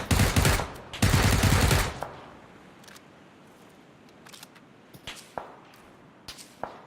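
Loud bursts of rapid automatic gunfire in a duo video game match fill the first two seconds, followed by quieter scattered clicks and faint shots.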